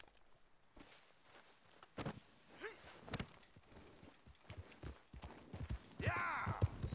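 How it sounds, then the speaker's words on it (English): Hooves of a large horse clip-clopping, irregular steps at close range, with someone speaking softly to it and a snort near the end. "That's a big horse."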